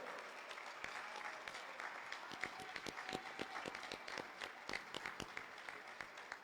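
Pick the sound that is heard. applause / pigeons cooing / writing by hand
applause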